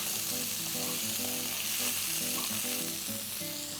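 Four diced carrots hit a hot pan in a carrot and green pea sabzi, sizzling loudly and steadily with a dense crackling hiss and light stirring throughout.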